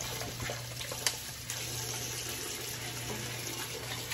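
A kitchen tap runs steadily into a sink while vegetables are washed, a constant close hiss of water with a few faint clinks and no speech.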